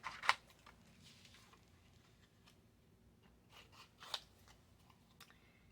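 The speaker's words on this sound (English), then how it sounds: "we're just going to cut our circle out" Scissors snip a paper circle out of an advent calendar journal page, two sharp faint clips separated by quiet rustling, close and soft with no talk.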